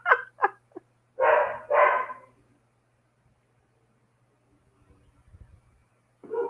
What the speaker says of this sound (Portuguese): as cachorras esperaram eu terminar a meditação para começar a latir